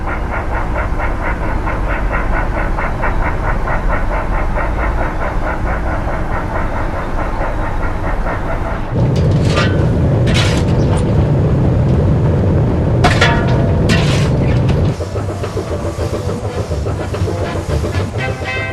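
A New Zealand BB class steam locomotive climbs the branch line up to Pukamiro, with loud, rhythmic exhaust beats and wheel clatter, then a heavier, rougher passage with sharp bursts before easing.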